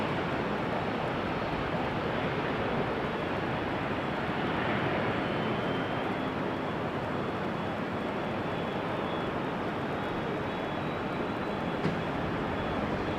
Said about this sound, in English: E2 Embraer 195 to Budapest, flight 1365.